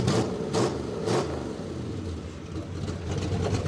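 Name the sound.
Dodge Dart V8 engine revving with mufflers open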